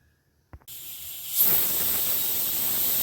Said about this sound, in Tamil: இது 7வது விசில்.